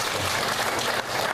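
An audience at a school scout performance event in Central Java claps in a dense, continuous burst of applause that fills the short span.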